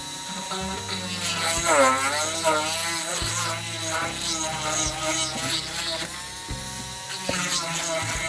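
A rotary multi-tool whines steadily while drilling a hole through a small dollhouse lamp, its pitch wavering as the bit bites, continuous and close for several seconds.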